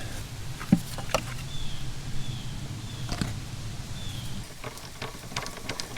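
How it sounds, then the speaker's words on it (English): Steady rain falling and pattering on surfaces around an outdoor workshop where a Caterpillar RD-6 tractor is being dismantled, with a few sharper drips and knocks over the continuous wash. "We've been working in the rain"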